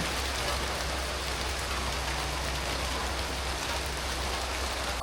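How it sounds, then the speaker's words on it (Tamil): Steady rain falling outdoors, an even, continuous hiss of drops on surfaces with a low rumble underneath, with no voices and no pauses throughout. "வீடியோ எடுத்துக்கிட்டு இருக்க மழை வந்துட்டு"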